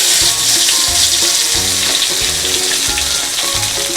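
Crushed ginger and garlic with cumin seeds sizzle loudly in hot oil in a pan, a steady bright frying hiss with stirring scrapes, cooking a tapioca and prawn dish.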